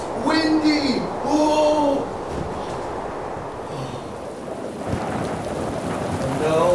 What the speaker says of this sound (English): There is a thunderstorm.